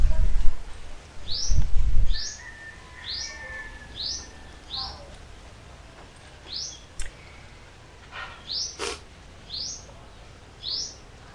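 Repeated short bird chirps at a steady pace, fairly close, in Cebu, Philippines, over low rumbling background noise, with a few louder knocks early on.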